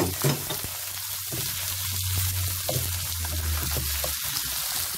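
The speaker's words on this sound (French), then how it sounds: "on fait revenir notre oignon quelques instants dans l'huile d'olive" Onion frying in olive oil for a seafood paella, a steady broadband sizzle running evenly through the whole stretch with a low hum beneath and occasional soft stirring scrapes, close and alone with no talk.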